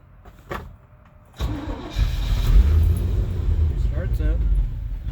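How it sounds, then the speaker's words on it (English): A car engine with throttle body injection cranks, catches and runs roughly for a few seconds, close by, with brief speech over it before it falters. "Starts up and it dies."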